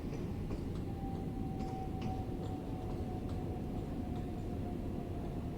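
A London Overground Class 378 Capitalstar electric train on the Watford DC line passes in a train simulator, a steady low rumble with a thin sustained whine above it, even in level and continuous throughout.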